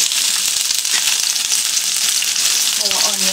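Onion fries in hot oil in a pot for a Trinidadian red curry with tofu and peas, giving a loud, close, continuous sizzle and crackle.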